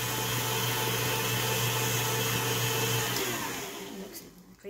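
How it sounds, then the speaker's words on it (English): Electric hand mixer whirring steadily as it beats condensed milk and chocolate into fudge, a loud continuous motor drone that cuts off near the end. "I'm going to mix this until it gets real creamy."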